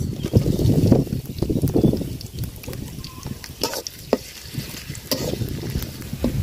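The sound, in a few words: onions and green chilies frying in oil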